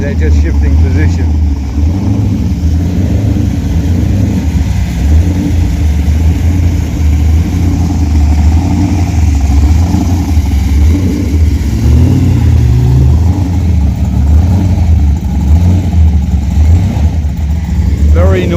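Several cars leaving a Coffee and Chrome car meet rumble and rev at close range in a constant low engine drone, with voices talking over it.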